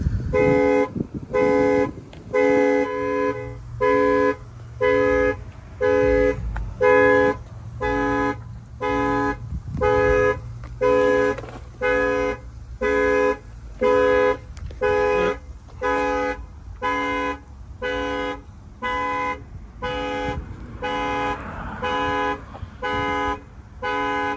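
A 2024 Chevrolet Silverado 2500 truck alarm blares in a steady, repeating horn-like pattern of evenly spaced loud tones, continuing for the whole stretch with a low engine-like rumble underneath.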